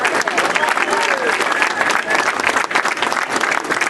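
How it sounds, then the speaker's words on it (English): Steady round of applause from diners at a VFW steak dinner fundraiser honoring National Guard members who walked in from Albany, dense close clapping with a few voices mixed in. "Give them a round of applause"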